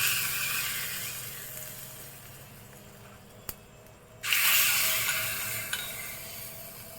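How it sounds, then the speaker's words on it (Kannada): Mustard seed and chili tempering poured into a bowl of snake gourd seed chutney, a sudden loud burst of sizzling and crackling that holds steady before easing slightly, with no talk. "ಇವಾಗ ಒಗ್ಗರಣೆಯನ್ನು ಚಟ್ನಿಗೆ ಹಾಕ್ಕೊಳ್ಳೋಣ"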